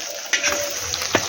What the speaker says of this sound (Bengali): মাছের তেলটাও ভাজছে ভালো করে।